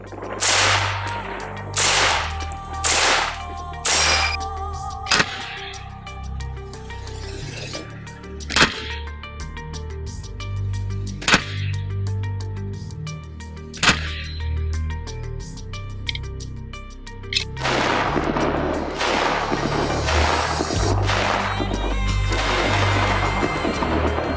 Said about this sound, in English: I got a few rounds left in that old clip, and we're going to empty them right into this sucker.